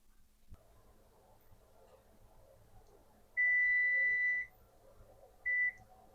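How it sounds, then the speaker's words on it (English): A kitchen timer goes off while eggs boil, sounding one long, clear, loud electronic beep followed by a second, shorter beep over a quiet, faintly humming room. "There's the timer."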